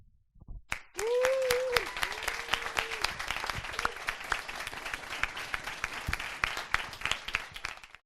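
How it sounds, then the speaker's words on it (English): An audience applauding at a startup pitch event, with steady dense clapping that starts abruptly and carries on throughout, a few sustained cheering voices rising near the start. "and then we do some cheering"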